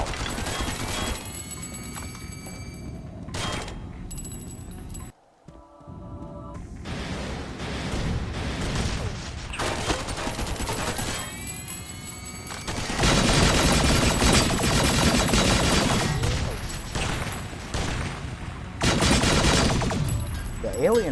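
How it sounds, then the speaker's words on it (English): Rapid bursts from an alien rifle in Half-Life rattle out in long, dense volleys with brief gaps between them, loud and close, while other combat sounds clatter around them. "The alien rifle really shredded the thing for some reason, though."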